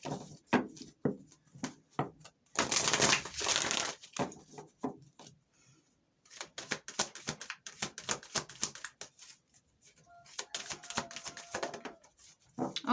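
Rapid riffling and flicking of playing cards in several bursts, crisp papery clatter separated by short pauses and soft handling sounds.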